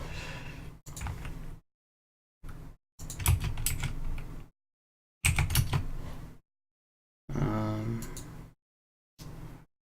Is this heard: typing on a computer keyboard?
yes